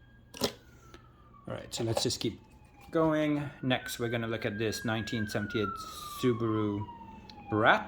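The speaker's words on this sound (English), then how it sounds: "Of course, you can hear the sirens in the background." A police or emergency vehicle siren wails steadily in the distance, a long sliding tone running beneath someone talking close up indoors.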